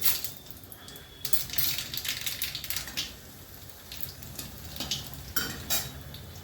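Two chillies and black cumin hit hot oil for tempering, giving a soft, faint crackle and sizzle broken by several sharp spattering pops and clinks of a utensil against the pan.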